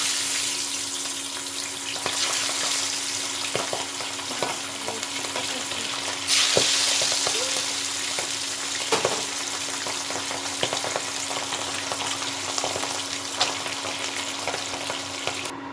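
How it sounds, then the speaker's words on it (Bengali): Pieces of papda fish fry in hot salted oil for a begun papda dish, a steady close sizzle and hiss running throughout with a brief louder flare of spitting partway through and faint clinks, no voices. "এবার একে একে মাছগুলো ভেজে নেব।"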